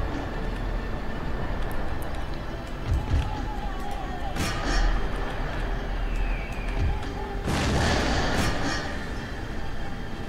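Cannon artillery firing during a battle in Empire: Total War, with rumbling booms and broadband bursts over a constant din of battle noise, one strong blast late in the stretch.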